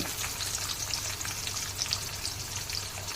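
Mustard seeds, cumin, urad dal and chopped onions frying in hot oil in a pan, a steady dense sizzle with fine crackling pops, close and continuous with no talk.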